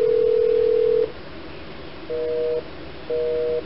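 A telephone line rings while calling an office, a steady electronic tone sounding first in a long burst, then in shorter repeated pulses with pauses between, heard alone with no talk.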